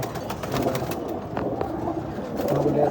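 Silver bezi pigeon chicks coo softly and repeatedly in a loft, their low murmuring calls blending with steady background noise.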